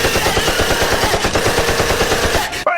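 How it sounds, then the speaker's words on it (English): Cartoon gunfire aimed at customers in a SpongeBob scene, a loud, dense rapid-fire burst of shots that runs continuously for a few seconds and then cuts off abruptly. "SpongeBob Bob, stop shooting me customers."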